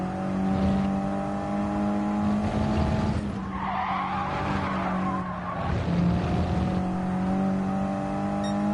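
Engine roar and tyre skidding from a four-wheel-drive car sliding in a racing video game, a steady loud drone with a broad screeching slide around the middle, no voices over it.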